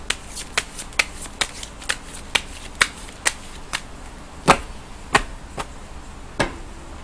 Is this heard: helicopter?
no